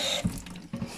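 Water running from a kitchen tap into a sink, a steady close hiss of flow with a couple of brief splashy bursts, no voices over it.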